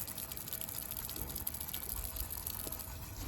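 An outdoor public water fountain runs with a steady gushing, splashing flow, close and continuous, with faint outdoor background underneath.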